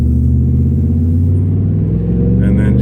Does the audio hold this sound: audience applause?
no